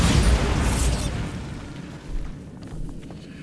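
A Bombarda spell explosion in the video game Hogwarts Legacy, a loud booming blast at the start that rumbles and decays over a few seconds, with smaller thumps following.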